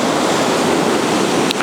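Strong ocean waves breaking at Ayrmer Cove, Devon, a loud, continuous rushing surf roar close by, dense and unbroken for the whole stretch.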